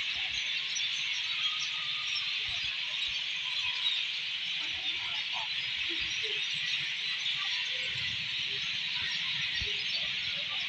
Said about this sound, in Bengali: জিমে যেতে গিয়ে আজকে পাখি আওয়াজ শুনি, যেটা এরকম সকালেও হয়